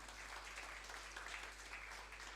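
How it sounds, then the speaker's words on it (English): Audience applause at an insurance industry conference honoring sponsors: steady, even clapping from a crowd throughout, moderately faint and unbroken. "Can we give them a big round of applause?"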